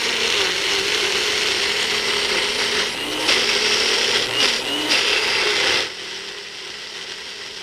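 A Magic Bullet blender whirs loudly and steadily as it blends a peanut butter dog treat, with a few brief surges in pitch before the motor cuts out, leaving quieter background hum.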